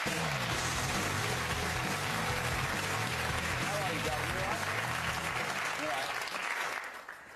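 Studio audience applause greeting a guest on a daytime talk show, dense loud clapping sustained for several seconds before tapering off at the end.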